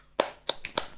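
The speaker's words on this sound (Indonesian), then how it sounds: "Tepuk tangan, keren." A few sharp hand claps in quick succession, spaced unevenly, loud and close, with no talk over them.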